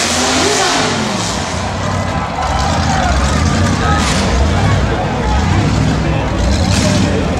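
Big-engined demolition derby cars roar and rev loudly at an outdoor event, with continuous heavy engine noise and crowd din while an announcer talks over it.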